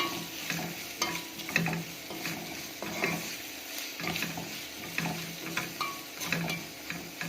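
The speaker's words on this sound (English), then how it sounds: "So I'll mix this thoroughly." Raw liver is stirred and mixed with seasoning and salt in a pan, giving a steady run of close wet scraping and squelching strokes with faint sizzling underneath, continuing without talk.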